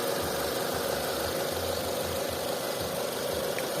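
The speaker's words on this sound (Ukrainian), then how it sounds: "Ось так працює двигунчик." A 2007 Renault Scenic 2 with a 1.6 petrol engine idles steadily, a low continuous hum with a faint rhythmic knock running throughout, fairly close and alone.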